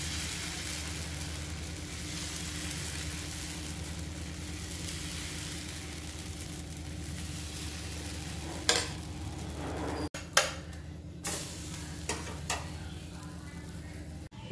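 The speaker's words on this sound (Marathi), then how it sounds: "आता पळीने असं गोल आपल्याला हलवायचं आहे। थोडंसं प्रेस करून हलवायचं आहे म्हणजे थोडेसे पातळ होतात।" Moong dal dosa batter sizzles steadily on a hot pan as a ladle spreads it in circles, a constant soft hiss with a few light scraping clicks near the end and no talk.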